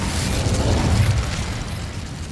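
Incendio fire spell in Hogwarts Legacy, a sustained roaring burst of flame with a deep rumbling blast, loud and dense throughout, no talking.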